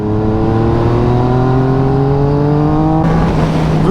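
A 2018 Yamaha MT-09 motorcycle accelerates on a road, its engine note rising steadily through the revs before a shift near the end, loud and close with no talk.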